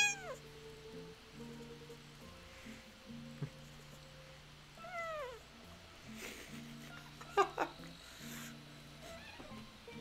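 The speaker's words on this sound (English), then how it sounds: "You want to meow for the camera again?" A house cat meows several times, drawn-out rising and falling cries spread over ten seconds, fairly faint, with soft background music from a Zelda video game.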